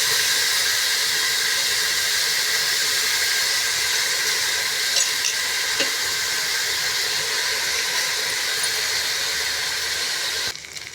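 Basmati rice added to a hot pot for restaurant-style bagara rice, giving a steady, loud, broadband hiss that holds evenly throughout with no talking.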